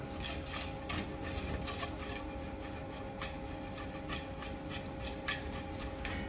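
Garlic, ginger, chili and turmeric stirred together in a bowl give a soft, repeated rubbing and scraping, faint and steady, with a low background hum.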